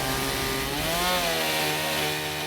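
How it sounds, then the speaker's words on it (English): A chainsaw cuts through a house to split it in half for moving by truck, a loud, close, continuous engine whine with pitch rising and falling as the chain bites. "Next, Shane breaks out the chainsaw."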